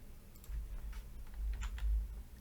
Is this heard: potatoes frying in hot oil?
no